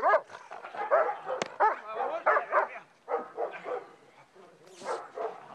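A black German shepherd gives a run of close, rough barks and yips mixed with whimpering whines, loud and irregular, with short pauses between bursts.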